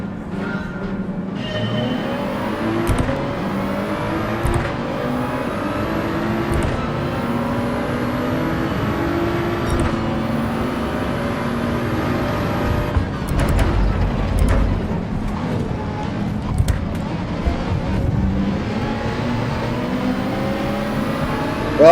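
Ferrari race car engines in Gran Turismo 7, a steady loud drone with rising and falling revs through gear changes, several cars running close together throughout.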